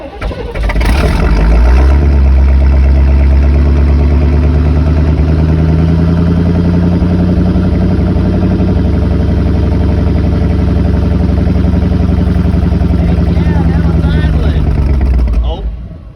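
A 1985 Chevy C10 square body pickup engine runs loud and close, a deep steady rumble held for about fifteen seconds with a brief sharper burst near the start, as it is run to clear a blocked tailpipe; no talk.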